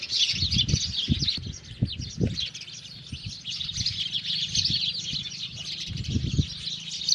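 Many sparrows chirp and twitter continuously nearby, with some low thumps and rustling underneath.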